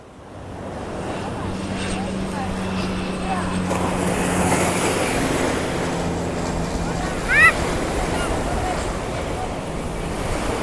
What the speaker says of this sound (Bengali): হঠাৎ বড় একটা ঢেউ এসে পাটা সব ভিজাই দিছে